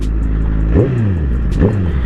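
A Honda CBR 1000cc motorcycle engine is blipped twice with the throttle, each short rev rising sharply and then falling back to a loud, close idle.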